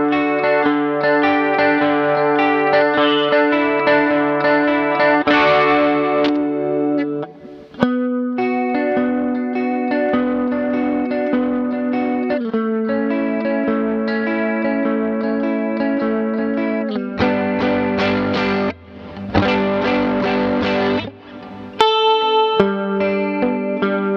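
An electric guitar runs through a chorus effect pedal on a worship pedalboard, ringing out sustained, shimmering chords that hold steadily, with a few brief breaks between changes.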